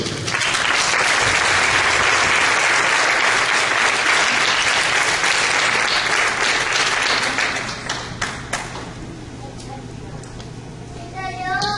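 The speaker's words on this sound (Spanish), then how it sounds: "Dale un aplauso a Cristo." A Christian church congregation applauds loudly and steadily for several seconds, then the clapping fades into scattered claps and room noise with a few faint voices.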